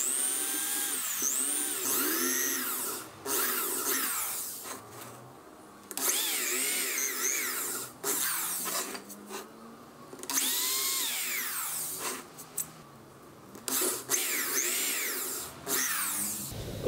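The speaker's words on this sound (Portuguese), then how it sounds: "Faça o furo." Power drill boring holes for splayed table legs in wood, high whining bursts that rise and fall, repeated several times with short pauses between, loud and close.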